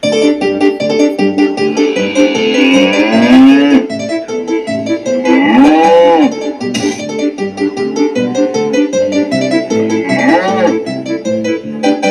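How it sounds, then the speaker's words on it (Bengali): Cattle lowing from bulls, with drawn-out moos and bellows rising and falling over a steady loud backdrop, several calls overlapping through the stretch. "একটা ষাঁড় তোমার দিকেই তেড়ে আসছে"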